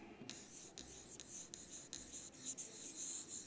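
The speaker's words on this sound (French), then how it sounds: "Alors, on va écrire 12." Pen or pencil scratching across paper as a French CM2 teacher writes the number 12 in words during a grammar correction, a steady close rubbing stroke with short breaks between letters and no talk.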